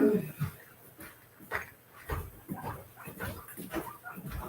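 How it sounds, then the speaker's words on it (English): A puppy whimpers and whines in short, broken bursts, fairly close and moderately loud, with some breathy sounds between the cries. "Oh my puppy's so big."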